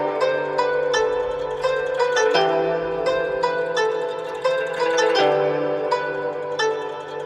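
Chinese guzheng beat sample processed with a Stereo Shaper plugin, plucked zither notes in a rhythmic pattern over a sustained low bass, full and continuous throughout.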